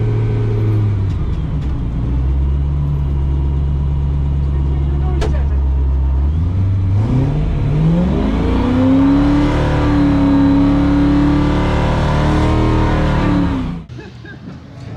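A BMW E30 M3 track car engine idles loudly at trackside noise testing, then revs up hard and holds high before cutting off sharply near the end; no talking.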